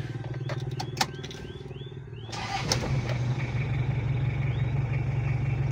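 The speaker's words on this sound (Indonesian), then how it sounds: "Kita coba hidupkan." A Toyota Kijang diesel engine upgraded with a turbo intercooler cranks with a few sharp clicks, then catches and settles into a loud, steady, rumbling idle.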